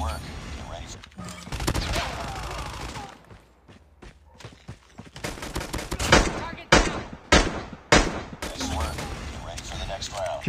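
Gunfire in a Call of Duty Mobile match: scattered single shots and sharp automatic bursts, some loud and close, others fainter, with footsteps and game sounds between and voices talking over parts of it.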